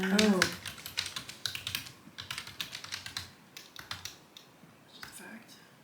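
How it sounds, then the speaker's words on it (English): Fast, fairly close keystrokes on a Commodore 64 keyboard patter steadily throughout, with a brief voice at the start. "This is easier to type on"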